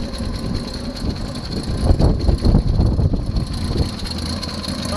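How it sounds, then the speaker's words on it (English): M715 Jeep engine running just after starting, with an exhaust leak on the manifold, a steady rough drone up close that swells briefly before settling, no talk. "Ignition on, firing up."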